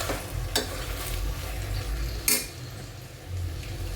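Mutton being stirred with masala in a pan for biryani, a close continuous sizzle with scraping spoon strokes and light metallic clinks against the pan, no talk.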